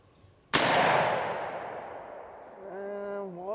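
A single loud revolver gunshot from a single-action .44 Magnum handgun loaded with 305-grain rounds, fired one-handed outdoors, cracks sharply and then rings off into a long fading echo, with a brief voice starting at the end.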